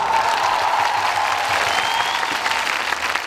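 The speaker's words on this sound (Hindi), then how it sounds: "उनके लिए तालियां" Sustained, dense applause from a large crowd at a Dalit protest rally in Una, steady and loud from start to finish with no speech over it.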